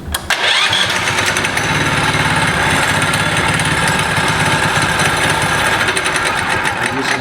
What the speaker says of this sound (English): It starts up and runs real good.